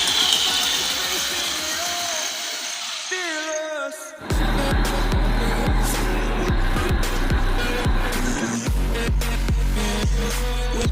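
A homemade RC car racing a Remo Smax RC car, electric motors whining and rising in pitch, then a louder burst of buzzing motor noise with rattling, choppy bursts as the cars run.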